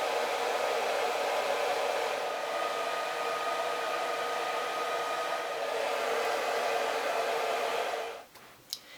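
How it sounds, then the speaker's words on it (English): A hairdryer runs to dry Halloween fake-wound makeup, giving a steady, loud, close-up airy roar that holds for about eight seconds before it cuts off, leaving a few faint handling knocks. "I'm just going to grab the hairdryer and dry it quickly."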